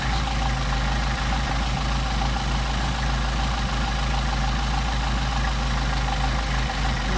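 A Mercedes 190SL engine with Solex carburetors, fully warmed up, idles steadily with a low, even rumble and constant mechanical hum, close and unbroken with no talk.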